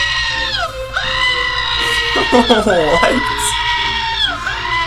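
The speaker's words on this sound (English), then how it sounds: "That's 8 hours of screaming goats." A recording of goats screaming plays loudly, with repeated long, humanlike bleating wails one after another, and a voice briefly reacting over them.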